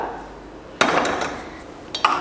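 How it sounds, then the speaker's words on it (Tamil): A sharp metallic clunk of a heavy kadai pan set down on a stove, with a second lighter clank shortly after, close by. "இப்போ ஒரு கடாய் வச்சிடலாம்."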